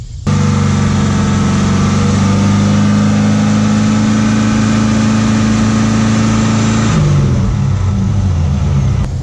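A car engine held steadily at about 3,000 RPM, loud and close with a strong, even drone, then dropping back toward idle near the end.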